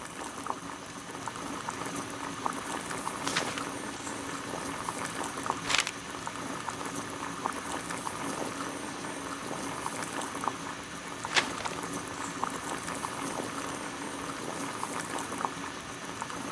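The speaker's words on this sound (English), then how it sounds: "Boil water in kettle." Water rolls at a steady boil in a kettle over a gas burner in the Sherlock Holmes: The Devil's Daughter video game, a continuous bubbling hiss with a few brief clicks and pops, moderately loud, with no talking.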